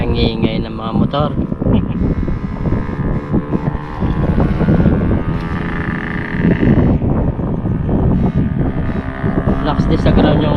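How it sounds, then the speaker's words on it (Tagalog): Small boat motors drone loudly and steadily on the water, with wind buffeting the microphone and people talking over the engine noise throughout. "Ang ingay ng mga motor."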